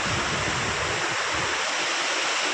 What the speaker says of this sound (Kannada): ಮಿನಿ ಜಲಪಾತ ಆಗಿ ಆ ನೀರಿಂದ ಇಲ್ಲಿ ಕೆಳಗಡೆ ಬಂದು ನೀರೆಲ್ಲ ಈ ರೀತಿ ಹರ್ಕೊಂಡು ಹೋಗ್ತಾ ಇದೆ